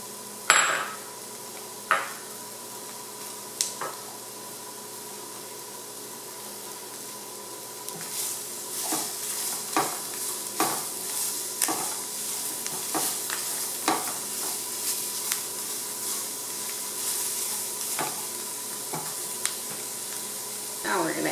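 Onion frying with squirrel meat in a pan, a soft steady sizzle that grows busier with scraping stirs and metallic taps as it cooks, close and moderate in level.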